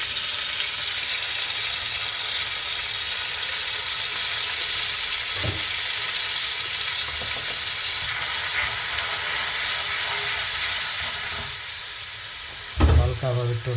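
Spiced tomato and potato curry, with turmeric and coriander powder, sizzles in a pan as it is gently stirred, a steady close hiss running throughout, with a few soft utensil knocks and a louder clatter near the end.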